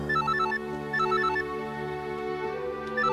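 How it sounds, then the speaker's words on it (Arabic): A telephone rings with a melodic electronic ringtone, repeating short tonal phrases in a steady loop, loud and close, with no voices. "ما ترد على التليفون. ما بتردش على التليفون ليه؟ رد على التليفون"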